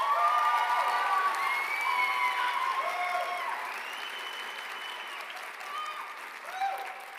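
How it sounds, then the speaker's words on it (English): Audience applause fills a university fine arts spring convocation, a dense steady wash of many hands clapping with scattered cheers, loud at first and easing slightly toward the end. "let's give one final round of applause for our student award recipients"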